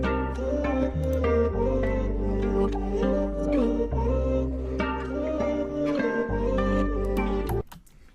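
A chopped audio sample plays back for a trap beat in FL Studio: a looping musical phrase with deep sustained bass and layered melodic chords, steady and full, cutting off abruptly at the end.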